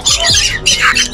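At a pet bird market, a cockatiel gives two loud, harsh squawks close by in quick succession.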